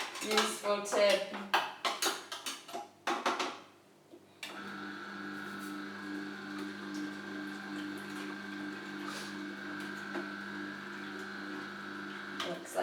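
A juicer grinds vegetables for gazpacho with a steady, droning motor whine after a stretch of clattering dishes and cutlery, continuing evenly to the end.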